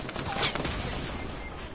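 A drum gun firing in the video game Fortnite, a rapid burst of automatic gunfire that stays loud throughout the short moment.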